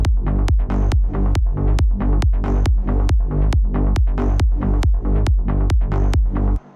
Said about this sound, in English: But the bassline actually sounds like this.